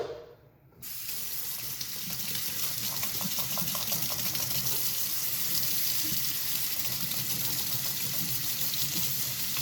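Warm water runs from a kitchen tap into a container, a steady close splashing gush that starts abruptly after a brief quiet moment and continues evenly.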